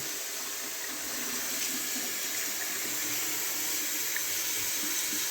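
A water tap runs steadily in a home while someone checks whether hot water is coming through, producing a continuous broadband rush with no talk and a fairly even level throughout.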